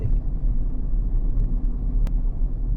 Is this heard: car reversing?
yes